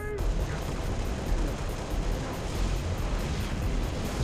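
A fuel rod gun firing in the Halo Reach video game, a dense loud roaring blast of explosive noise filling the whole moment, heavy and close.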